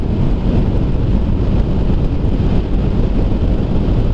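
Heavy wind buffets the microphone while riding home on the road, a loud, constant low roar and rumble with no speech.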